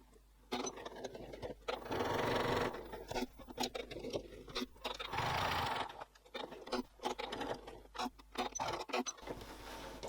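A sewing machine stitches around a woven label on a cork wallet, running in several short bursts with brief pauses between them, close and moderately loud.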